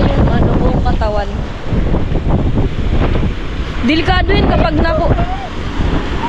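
Ocean waves wash in steadily beneath strong wind buffeting the microphone, while people talk over the surf throughout.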